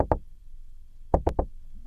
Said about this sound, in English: They knock on the door.